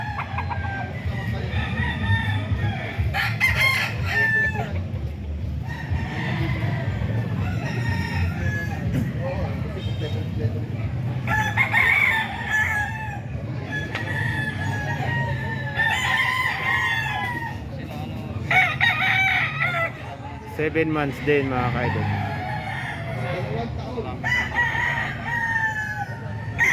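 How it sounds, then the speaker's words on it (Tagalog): Seven-month-old gamefowl roosters at a Grotto farm keep crowing in overlapping calls, some close and loud and others farther off, with clucking beneath and someone speaking intermittently over the flock. "Manok dito sa grotto mga ka-idol"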